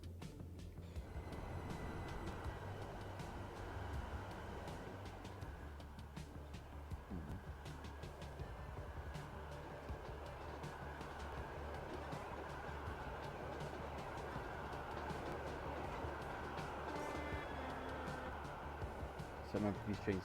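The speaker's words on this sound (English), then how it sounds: "So remember, these trains staying here for 30 seconds. Off he goes." Trains at a busy station in the Transport Fever 2 game, a steady low rumble of engines and rolling stock with faint clanks, heard quietly under continuous narration.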